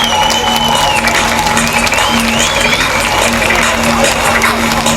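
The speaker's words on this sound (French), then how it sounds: "Allez, vos applaudissements pour la catégorie Sidcar." Audience applauding the sidecar category at the 2006 Marmande international grasstrack race, sustained clapping from the crowd with a voice and a steady hum under it.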